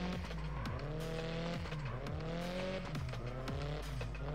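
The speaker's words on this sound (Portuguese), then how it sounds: "eu queria fazer uma drift" A car drifts in the mobile racing game CarX Drift Racing 3, with a steady engine drone and rising revs broken by repeated gear-shift dips and tire squeal, loud and continuous with no talk.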